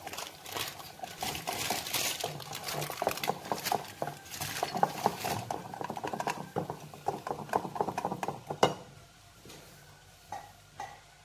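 Apple cake batter being stirred in a bowl, a busy run of close, soft scraping and tapping that goes on steadily, then thins out near the end.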